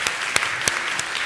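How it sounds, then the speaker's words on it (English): An audience at a children's Christmas lecture applauds volunteers, a brief burst of clapping with a few sharper individual claps standing out above the steady patter. "round of applause for our volunteers"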